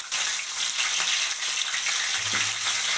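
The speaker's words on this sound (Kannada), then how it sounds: "ಇದನ್ನು ಈರುಳ್ಳಿ ಬೆಳ್ಳುಳ್ಳಿ ಎಲ್ಲ ಚೆನ್ನಾಗಿ ಕೆಂಪಗಾಗೋವರೆಗೂ ಫ್ರೈ ಮಾಡ್ಕೊತೀನಿ" Garlic and curry leaves frying in oil for kosu palya, a dense, even hiss of sizzling close by with a brief low clunk near the end, no voices.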